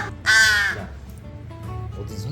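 A crow caws loudly and close by in one harsh, drawn-out call outside a building, then fainter bird chatter and low background noise follow.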